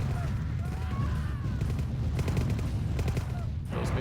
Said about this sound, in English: that's only MRLS rocket launchers. They certainly don't launch missiles that are very scary